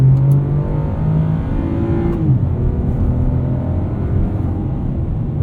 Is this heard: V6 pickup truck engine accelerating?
yes